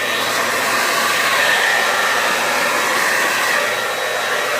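A hair dryer on its high setting blows steadily at close range, spreading wet poured acrylic paint, a loud even rushing airflow that holds unbroken from start to finish with no voices.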